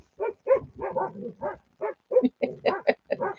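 Two or three dogs at play, chasing each other in circles, give off a run of short yips, grunts and play-growls, close and fairly loud, in quick irregular bursts with brief gaps.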